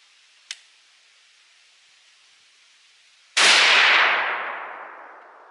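A sharp crack at the start, then after a pause a loud gunshot blast at a truck door on a shooting range, its roar decaying over a couple of seconds.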